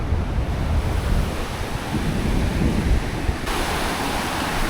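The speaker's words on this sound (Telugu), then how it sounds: "చాలా ఎక్కువ వస్తున్నాయి అలలు" Rough sea surf pounds a fishing shore in a continuous loud roar, the crashing water merged with heavy wind buffeting the microphone, no voices heard.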